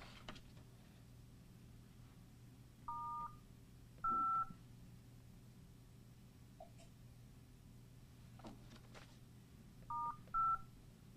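Telephone keypad tones sound while a conference phone line is opened at a press conference: short bursts of two to three beeps separated by pauses, faint against a quiet room hum with light rustling.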